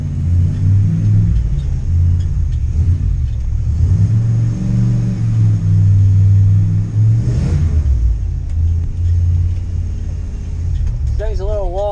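A go-kart's small engine drones and rumbles continuously, rising and falling in revs while drifting, with faint voices and a brief high squeal near the end.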